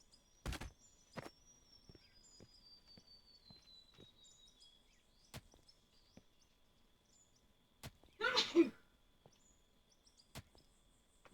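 A single sneeze bursts out fairly close, loud against an otherwise quiet room broken only by a few sharp clicks and taps.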